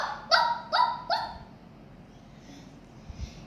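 A voice imitates a little dog barking: three short, loud, evenly spaced barks close by, then quiet room tone.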